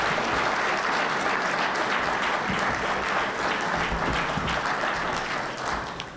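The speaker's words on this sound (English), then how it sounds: "give these guys a round of applause" Sustained audience applause fills a leadership forum hall, dense and steady throughout, fading slightly at the very end.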